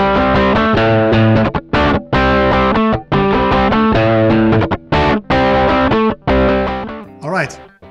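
Heavily distorted electric guitar amp riffs, run through a Palmer Supreme Soaker with no attenuation, play loud and continuous with brief choppy stops, ending in a short squealing slide.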